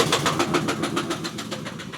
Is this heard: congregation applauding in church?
no